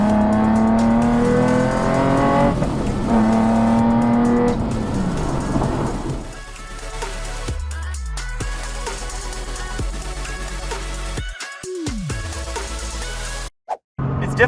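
Supercharged Nissan 370Z fitted with a TopGuns ACE kit accelerating hard, engine climbing loudly through rising revs with quick shifts, then easing off and dropping away with a few sharp gaps near the end.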